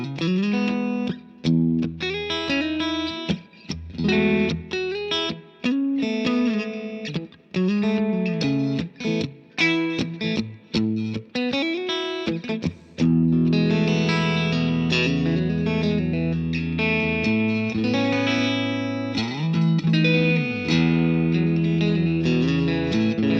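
Electric guitar through a VOX AC10 amp with a touch of reverb and a twangy country tone, playing continuous melodic lines and chords, loud and close with no talking.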